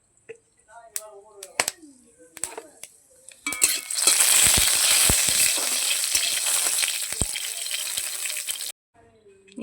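Pumpkin, potato and eggplant pieces hit hot oil with a sudden loud sizzle that holds steady for several seconds, after a few sharp clinks and taps of utensils, and the sizzle cuts off near the end.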